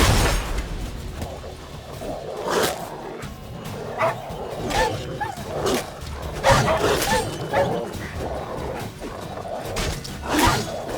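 Stray dogs bark, yip and snarl in bursts during a Witcher 3 fight, mixed with sword swishes and scuffling, close and busy throughout.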